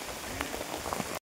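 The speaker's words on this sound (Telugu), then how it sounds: "వర్షం బాగా పడుతుంది చూడ." Heavy rain pours steadily on surfaces in a forest tribal village, a dense continuous hiss with scattered drops that cuts off abruptly near the end.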